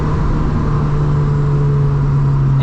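A Lotus Elise engine pulling at low revs on the road, a loud, steady mid-range drone with a strong constant tone and no voices over it.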